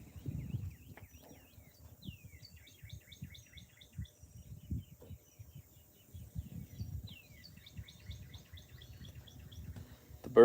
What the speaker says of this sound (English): We have a lot of redbirds here. I'm guessing they're cardinals